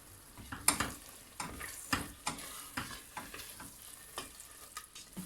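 Cracked wheat, called gendime in Erzincan, sautéed with onions for Erzincan tarhana soup. Soft, close frying sizzle with a regular run of spatula scrapes and taps, fairly quiet throughout.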